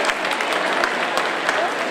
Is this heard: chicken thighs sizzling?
no